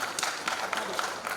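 Audience applause at the close of a talk on environmental alternatives and development challenges: steady, dense clapping from a hall crowd, sustained through the whole moment with scattered sharper claps.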